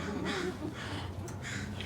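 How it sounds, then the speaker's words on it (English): Crows cawing outdoors, a few harsh calls heard at a distance beneath a storyteller's voice on a porch. "Oh, crows out there listening."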